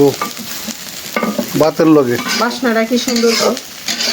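Food sizzling in a pan as it is stirred for a village breakfast dish, loud and close, with bright tonal squeaks and scraping over the frying.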